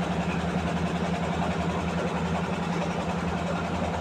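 Machinery in a sago processing factory runs continuously, a steady mid-level mechanical hum and drone with a low tonal buzz and no voices.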